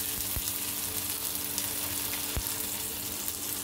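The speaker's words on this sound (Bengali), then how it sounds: "পেঁয়াজ, কাঁচামরিচ, টমেটোটা ভাজা ভাজা হয়ে গেছে" Onion, green chili and tomato frying in a pan, a steady close sizzle with crackling throughout and a couple of sharp pops, no talk.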